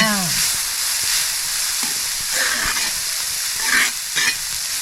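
Onion roasting in a pan on a wood-fired village stove, with steady close sizzling, scraping stir strokes and a few sharper clinks.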